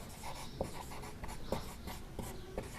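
Chalk or a pen scratches across a board in a classroom lesson. The strokes come in quick rhythmic bursts with sharp taps and sound faint and close, with no talk over them.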